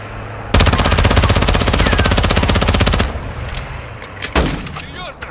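Gunfire in Call of Duty Warzone DMZ: a long, loud burst of rapid automatic fire lasting about two and a half seconds, followed by scattered single shots and a heavier bang, with faint voices in the background.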